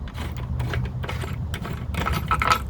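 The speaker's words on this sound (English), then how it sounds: "I'll insert my key about halfway so I can use it to turn the lock." A key turning in a Schlage mortise lock cylinder on a storefront door, with close, steady metallic grinding and rattling of the key, the mechanism clicking and ratcheting more sharply toward the end, with no talk.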